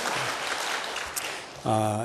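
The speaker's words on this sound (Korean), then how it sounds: "뜨겁게 우리 박수로 환영하겠습니다" Broad applause from a crowd, steady and moderately loud, then a voice begins speaking over the end.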